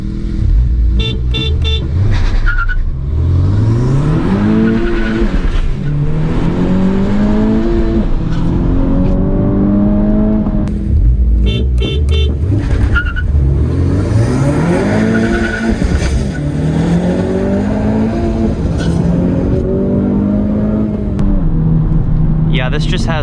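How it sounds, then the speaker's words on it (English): A Honda Civic Si launches hard twice, its engine revving up in rising sweeps through the gears, with juddering wheel-hop chatter and tire noise at each launch start; recorded close and loud, with voices in the car. "so that was me experiencing the wheel hop for the first time, that infamous wheel hop"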